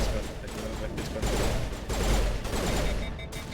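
Rapid automatic gunfire from a weapon in Mass Effect, dense bursts of shots firing continuously at close range for a few seconds.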